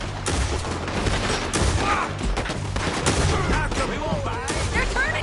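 A town gunfight in Red Dead Redemption 2 rages with dense, continuous gunfire, overlapping shots and cracks filling every moment, loud and chaotic, with shouting voices mixed in.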